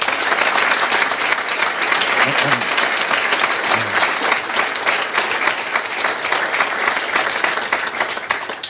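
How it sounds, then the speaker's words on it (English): An audience at a welcome briefing at Maison du Danemark gives embassy staff a big round of applause, dense continuous clapping filling the room with a faint murmur of voices underneath. "Let's give them a big round of applause"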